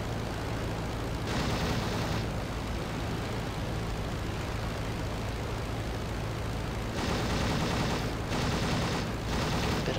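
Old World War I machine gun on an Albatros D.V fighter plane in Rise of Flight, firing in short rattling bursts over a steady aircraft engine drone, no talking.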